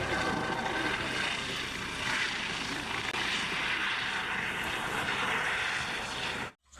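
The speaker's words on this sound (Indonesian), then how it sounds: "Widih, ternyata helikopter." A toy police helicopter gives off a steady, fairly loud whirring rotor drone that runs without pause and cuts off abruptly at the end.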